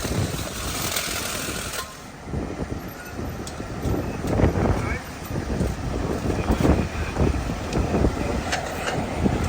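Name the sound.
strong wind outdoors at a street scene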